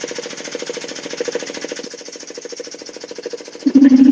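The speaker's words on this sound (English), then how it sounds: "Your compressor sounds like a mini bike running." A small, cheap air compressor runs with a rapid, steady chugging pulse, like a little motor hammering away, fairly loud and close for the whole stretch, growing louder and rougher near the end.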